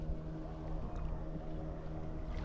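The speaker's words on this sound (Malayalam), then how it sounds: "ബോട്ട് നമ്മുടെ നേർക്കാണല്ലോ വരുന്നത്." A motorboat crosses the sea off Palolem Beach in Goa at sunset, heard from a kayak on the water: a steady, moderately loud low engine drone with a constant hum and no talk.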